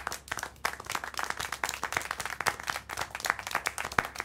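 Steady applause from a small group in the video game Syberia: The World Before, many overlapping claps in a brisk, continuous patter at moderate volume.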